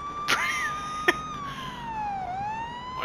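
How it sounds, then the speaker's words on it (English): A police car siren wails in long rising and falling sweeps at moderate distance, with two brief sharp knocks near the start and no talking. "Why you got your siren on?"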